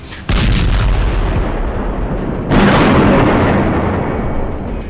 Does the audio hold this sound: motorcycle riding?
no